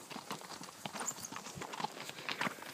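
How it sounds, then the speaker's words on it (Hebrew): Horse hooves clip-clopping as a rider picks up the pace, a quick, irregular run of soft close thuds on the ground with no talk, steady and moderately loud throughout. "עכשיו אנחנו מעלים את הסוס קצת בדרגה, שירכב קצת"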